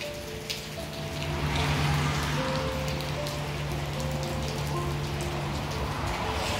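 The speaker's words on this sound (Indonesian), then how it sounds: "Dia hujan. Dia buat hujan ni." Monsoon rain falls steadily onto surfaces in a garden, a continuous dense patter of drops close by, with a faint low hum underneath and no voices.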